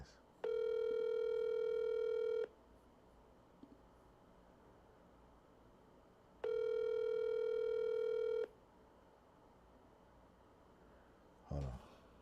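An outgoing telephone call rings out unanswered: two long, loud electronic ringback tones a few seconds apart over quiet background hiss, with a brief faint knock near the end.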